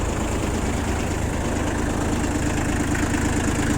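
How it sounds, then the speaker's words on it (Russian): A Shibaura P21F four-wheel-drive Japanese tractor's three-cylinder engine idles smoothly and steadily, a continuous close mechanical rumble with no talking. "Трехцилиндровый мотор, напомню. Работает достаточно ровно, беспроблемно."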